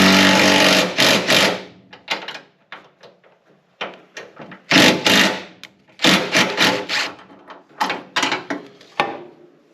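A small impact wrench tightens a nut on a homemade dimple die built from hardware store parts, firing in loud, close bursts of rapid hammering separated by short pauses.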